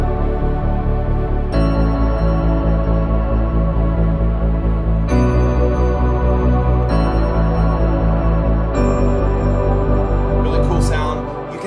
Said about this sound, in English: Chorus 2 brings in a few more bells